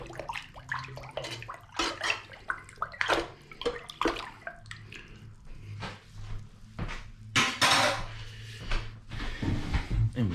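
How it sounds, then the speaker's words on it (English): A spoon stirs a pot of sugared cooking liquid for boiled corned beef silverside, making close, uneven sloshing and swirling water sounds with occasional knocks against the pot, and brief talk in places. "I just want to stir it to mix it all up"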